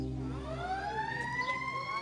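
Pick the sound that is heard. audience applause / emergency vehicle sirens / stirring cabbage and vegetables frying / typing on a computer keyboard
emergency vehicle sirens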